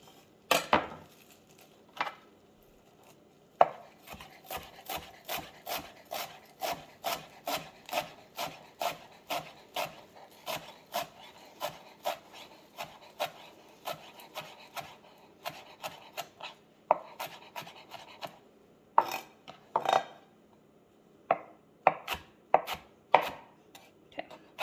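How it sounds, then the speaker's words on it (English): A knife chopping a rolled-up bundle of parsley on a board for tabouli, with close, rapid strokes in rhythmic bursts and short pauses between runs, and no talking. "Just roll them all up in a ball, chop them up."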